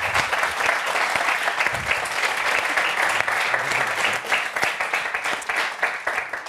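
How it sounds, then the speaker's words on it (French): A studio audience applauds for Raphaël on a French football talk show, dense sustained clapping, loud and close, holding steady for several seconds before thinning slightly. "Vous pouvez l'applaudir."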